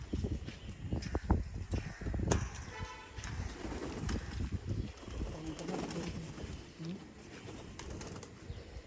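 Pigeons coo softly nearby amid rustling and shuffling noises, with a few sharp knocks and some low background sounds.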